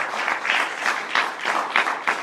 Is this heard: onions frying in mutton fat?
no